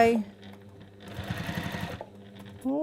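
A sewing machine stitching textile chatters in a quick rapid rhythm for about a second mid-stretch, close and clear, with someone talking just before and after.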